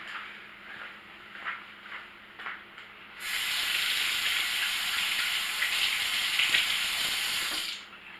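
A steady hiss of running tap water at a sink pours for several seconds as a camp knife is rinsed off, preceded by light handling knocks and ending abruptly when the flow stops.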